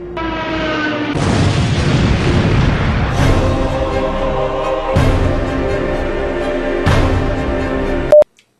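Missile explosions in a comedy sketch: a series of loud, deep booming blasts that roll and rumble in quick succession, ending with an abrupt cutoff.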